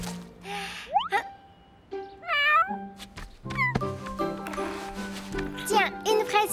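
A cat meowing repeatedly, several short rising and falling meows spread through the stretch, fairly close, with people talking in between.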